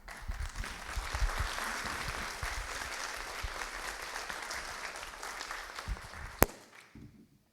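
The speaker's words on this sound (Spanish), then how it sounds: "le brindamos nuevamente un aplauso" Sustained audience applause following a neuroscience lecture, dense and steady across most of the span before tapering off near the end, with one sharp loud knock just before the fade.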